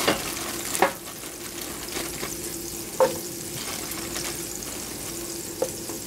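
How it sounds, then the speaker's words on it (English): Steady, close sizzling of mushrooms frying in a hot skillet with shimmering oil, with a few sharp clinks of stirring now and then. "Once that is nice and shimmery and it's sizzling, I'm going to throw in the mushrooms."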